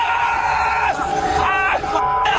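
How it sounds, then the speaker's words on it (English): A man screams loudly and close in long, strained, wavering cries with rising and falling pitch, filling the whole stretch. "he's screaming"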